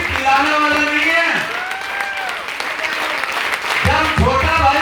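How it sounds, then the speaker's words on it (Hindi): An audience applauds with sustained clapping beneath a voice speaking loudly over it, the clapping continuing steadily throughout. "तो ताली भी बड़े वाली चाहिए"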